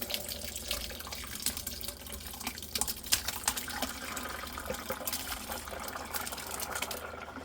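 Water draining off soaked, chopped relish vegetables in a kitchen: a steady, close trickling and splashing flow with small irregular drips, continuous throughout, with no talk.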